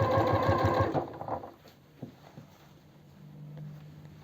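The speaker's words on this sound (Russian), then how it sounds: "И мы продолжаем строчить." A sewing machine stitches a pajama seam with a rapid, close mechanical whir for about a second, then slows to a few faint clicks and handling noises.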